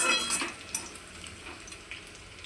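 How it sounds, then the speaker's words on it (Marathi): Potato and onion bhaji frying in an oil-filled pan, with a soft continuous sizzle and occasional light scrapes and clinks of a spoon stirring, close and fairly quiet with no talking. "हे मी छान परतून घेते आणि मग तुम्हाला दाखवते एवढा फ्रेंड्स छान फ्राय होत आहे"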